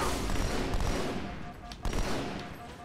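Assault rifle fire in the shooter game Halo 2 Anniversary: rapid automatic bursts crackle densely throughout, briefly thinning before resuming, mixed with other battle noise at moderate loudness.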